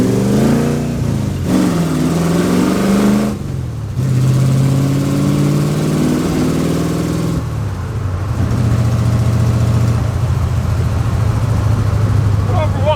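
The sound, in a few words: hot rod with overdrive transmission driving in third gear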